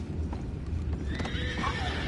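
Horses in the Red Dead Redemption 2 video game clip-clop close by, with a whinny rising over the hoof beats near the end, set against a low ambient rumble.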